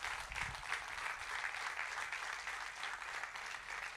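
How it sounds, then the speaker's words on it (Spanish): A church congregation claps steadily for several seconds during a sermon, a dense, even wash of applause heard at some distance and fairly faint. "Denle un fuerte aplauso a Dios"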